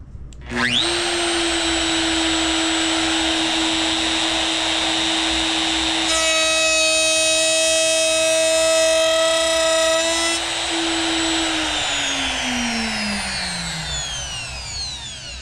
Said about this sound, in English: I've never used a router before.